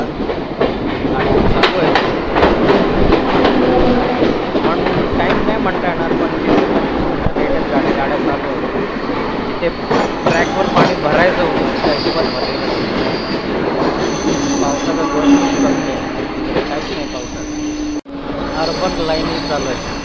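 A crowded Mumbai local train runs on the harbour line after heavy rain, loud rattling wheels and clattering carriages with squeals and tones later, a voice briefly audible over the steady din.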